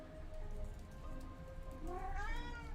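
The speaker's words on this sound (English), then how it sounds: "I have a kitty who's meowing to be let out of my room" A house cat meows to be let out of a room, with a few faint, drawn-out cries in a quiet indoor space, the last one rising and louder, over a low background hum.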